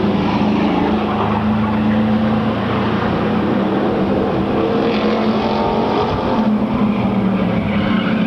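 Race cars roar steadily on a track as Jim Dunham's car slides around amid traffic before a caution, a dense, continuous engine drone with no voices.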